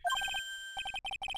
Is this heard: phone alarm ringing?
yes